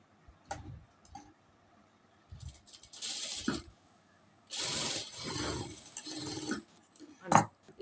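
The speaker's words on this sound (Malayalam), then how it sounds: "ഇങ്ങനെ പതുക്കെ പതുക്കെ സ്റ്റിച്ച് ചെയ്യണം" Short bursts of a sewing machine stitching a princess cut blouse, starting and stopping in a quiet room, with a soft mechanical ticking between the runs.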